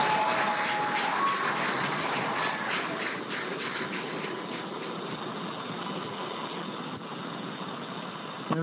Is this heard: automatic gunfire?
no